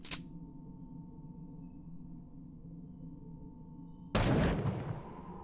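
A single sharp Colt pistol gunshot in a Russian horror video game, loud and close, ringing off briefly after a quiet stretch of low ambient hum and a faint click at the start.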